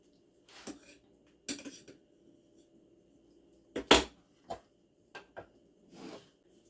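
Sticky mochi dough being cut in a kitchen, heard as a handful of separate sharp knocks and clacks against a board or dish, one louder strike near the middle, quiet gaps between, no voices.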